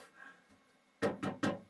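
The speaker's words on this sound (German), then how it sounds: "Die Tür geht nicht auf." A locked door being tried but not opening: three firm rattling thuds in quick succession from a handle and door shaking in its frame, close and loud after a near-silent pause.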